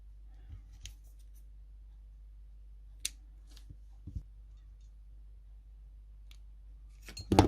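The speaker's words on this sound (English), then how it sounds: "I'm just going to use some black felt to make whiskers, so you just want to cut some really thin strips" Scissors snipping thin strips of black felt for craft whiskers, a handful of sparse, sharp, close clicks and snips separated by quiet gaps, with a louder cluster at the end.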